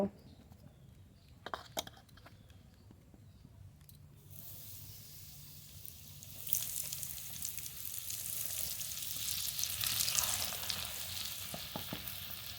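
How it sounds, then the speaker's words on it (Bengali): Eggplant coated in gram flour (besan) goes into hot oil. After a quiet start with a few knocks, a hissing sizzle begins and swells to a steady, close, loud fry. "বেসন এইভাবে মাখিয়ে ভেজে নেব"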